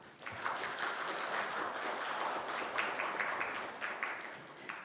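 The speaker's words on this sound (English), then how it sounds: "please welcome her with a big round of applause" A large conference audience applauds steadily as a presenter is welcomed to the stage at a finance event, dense clapping sustained throughout at a fairly even level.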